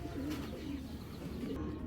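Racing pigeons coo close up, a steady low rolling call repeating over a dense bed of bird noise.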